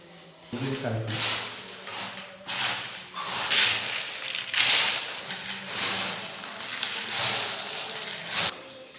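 Fried flattened rice and chickpea snack mix, seasoned with salt and chilli powder, is stirred and tossed in a bowl, giving dry crunchy rustles and crushing scrapes in uneven bursts, with someone talking over it.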